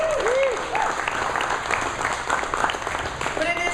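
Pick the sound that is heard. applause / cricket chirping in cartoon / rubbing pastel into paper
applause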